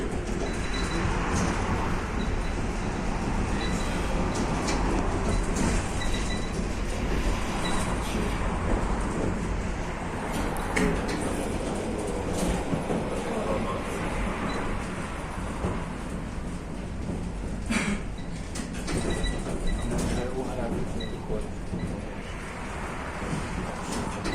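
An old tram in Warsaw rumbles past close by, a steady loud roar of wheels and motor with occasional squeals and clanks running throughout.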